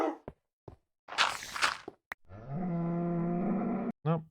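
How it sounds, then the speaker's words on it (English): A cow in a video game lets out a long, loud low moo, preceded by a few short footstep-like taps and a rustling whoosh, with a brief bleat-like call after. "That's a cow."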